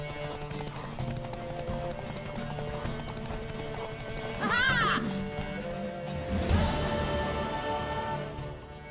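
Horse galloping in a race in The Witcher III, with fast, continuous hoofbeats up close and a sharp whinny partway through, set against a low background hum.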